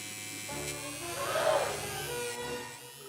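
An electric razor drones in a steady buzz as it shaves the hair off a Barbie doll, swelling slightly in the middle before easing, with no voices over it.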